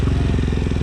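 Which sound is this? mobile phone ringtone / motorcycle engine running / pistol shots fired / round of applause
motorcycle engine running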